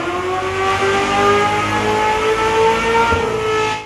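A crossplane V8 engine revs hard through an 8-into-1 exhaust header, producing a loud, sustained, musical wail that climbs and holds steady for a few seconds.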